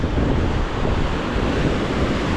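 Heavy ocean surf rolling and crashing against Malabar Headland in Sydney, a continuous broadband roar with wind buffeting the microphone, loud and close with no voices.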